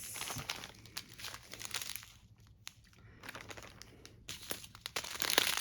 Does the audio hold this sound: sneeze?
no